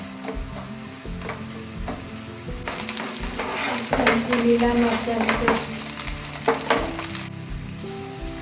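Garlic, ginger and green chilli paste sizzles in a hot pan for vegetable spring rolls, a steady frying crackle with spoon scrapes and stirring clatter, while a voice talks over it throughout.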